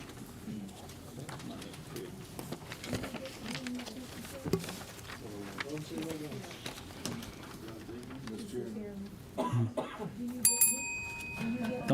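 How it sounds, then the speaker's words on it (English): During a Senate rules committee session, people talk for several seconds before a small bell rings brightly near the end, a short clear ding over the room's murmur. "Don't touch my bell."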